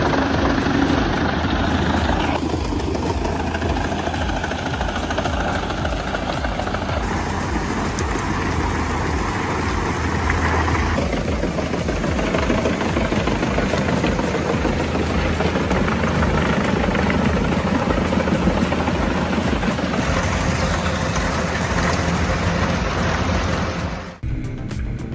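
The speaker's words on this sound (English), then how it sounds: "chipping whole trees in minutes" A wood chipper shreds whole trees at a land clearing, a loud continuous mechanical roar with heavy churning and knocking that holds steady before dropping off sharply near the end.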